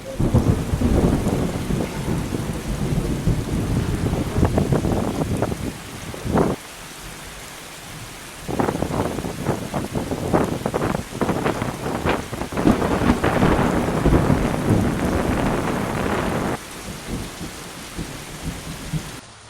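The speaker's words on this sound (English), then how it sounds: "Rain happens, and it happened to us today." Heavy rain pours outdoors in a park during a thunderstorm, with loud rolling thunder in repeated rumbling waves. The downpour hisses steadily and eases briefly midway before the storm builds again, with no voices.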